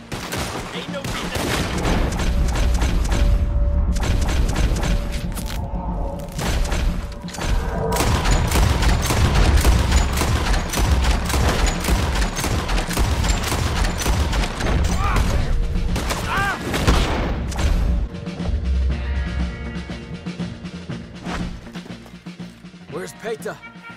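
In the video game Red Dead Redemption 2, a loud battle rages with dense rifle and pistol fire, heavy cannon booms and crashes, while characters shout over the sustained barrage.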